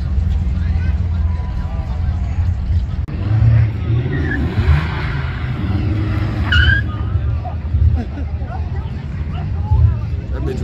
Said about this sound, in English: someone doing a burnout in your face